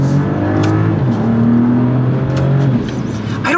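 Exhaust note of a 2025 BMW X3 M50 with Iconic Sounds switched off, heard from the back as a loud, continuous engine rumble with rising and falling revs, close by and without talk.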